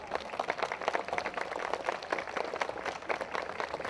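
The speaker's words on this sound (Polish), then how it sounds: "Kochani, zapraszamy na scenę. Wielkie brawa!" Festival audience applauding for performers called to the stage, a steady patter of many hands clapping at moderate distance, continuous throughout.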